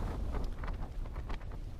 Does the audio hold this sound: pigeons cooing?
no